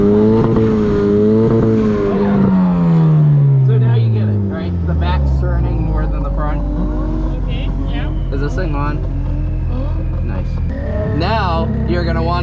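Ford Fusion drifting in a circle at a competition: a sustained engine roar that rises and falls, with tire squeal throughout, while someone talks over it.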